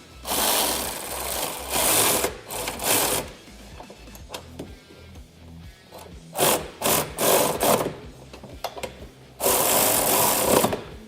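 Bolts on a front bumper being fitted to a Kawasaki Teryx KRX are tightened with a power tool, heard as several close, buzzing, ratcheting bursts separated by short pauses.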